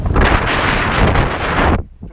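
Loud, steady wind at sea buffeting the microphone for about two seconds before cutting away abruptly, with a dull low-frequency roar throughout, aboard a cargo ship in the Atlantic.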